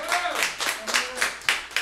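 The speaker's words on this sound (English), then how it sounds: "Round of applause for that." An audience at a Sunday study session breaks into a short round of applause, with rhythmic bursts of clapping mixed with voices.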